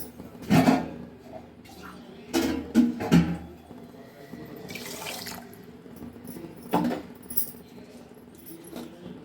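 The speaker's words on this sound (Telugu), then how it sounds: "షుగర్ మునిగేంత వరకు వాటర్ పోసుకుంటే సరిపోతుందండి" Water is poured over sugar in a pot to make syrup for boondi laddu. It comes as a few short splashing pours with gaps between them, close and fairly loud, alongside light clinks of a vessel.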